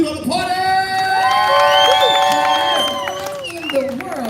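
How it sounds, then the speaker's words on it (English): Live crowd at a Blues Brothers party show at Universal Studios Orlando cheering and whooping with applause, loud and close, with voices and shouts carrying over the clapping throughout. "How about a big round of applause for the Blue Brother party?"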